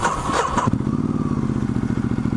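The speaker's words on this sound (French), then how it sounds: "Et voilà, ça démarre au quart de tour." Ducati Multistrada 1260S motorcycle starting up: a short whirring crank, then the engine catches into a steady, close, loud idle with an even pulsing beat that continues to the end.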